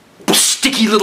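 A single sharp sneeze bursts out close and loud, followed immediately by a voice speaking.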